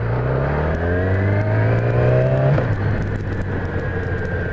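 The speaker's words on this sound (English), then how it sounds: "give it a quick rev, and drop a gear at the same time" Motorcycle engine revving while the rider shifts down a gear, a steady rising drone that drops sharply in pitch partway through and then settles, heard alone with wind noise.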